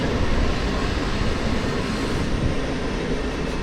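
A crowded train rumbles past at a station with a loud, continuous roar of wheels and carriages, no voices audible over it.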